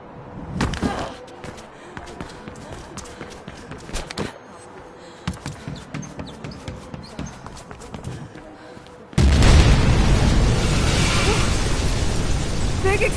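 A big explosion in the video game Mirror's Edge Catalyst lands as a sudden loud roaring blast that sustains to the end, following quieter scattered impacts and game sounds.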